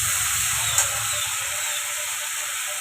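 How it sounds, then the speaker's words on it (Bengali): Water hits spices frying in a pan, giving a loud continuous hiss and crackle throughout, steady and close, with a single brief click early on. "জল দিয়ে দিলাম, মশলা পুড়ে যায়।"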